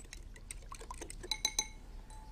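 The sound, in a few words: whisking mixture with egg in a bowl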